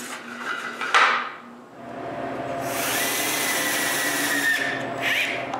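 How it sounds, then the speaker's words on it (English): A power driver whirs as a screw is driven into the middle section of a wooden tripod, a short burst followed by a longer sustained drilling run, close and loud. "I can screw the middle section"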